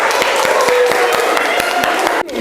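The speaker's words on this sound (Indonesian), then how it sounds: "berikan tepuk tangan untuk kita semua" Applause from a classroom group of students, a dense run of claps with some voices mixed in, ending abruptly.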